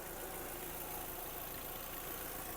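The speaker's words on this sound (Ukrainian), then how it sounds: "Заводиться тихо, працює рівно, компресія присутня." A 2007 Volkswagen Touran with a 1.6 MPI petrol engine idles in a continuous, even hum, fairly quiet and with no voices over it.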